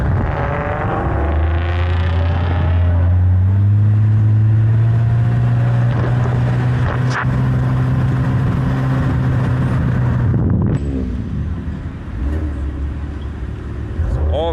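Several cars driving off toward a street drifting spot in Washington DC, a steady low engine drone with rising revs building and settling, close and continuous, with someone speaking over the rumble.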